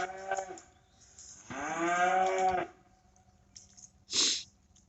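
Cattle scattered across a foggy field give a drawn-out moo, with shorter calls and a sharp snort or sneeze nearby against quiet background.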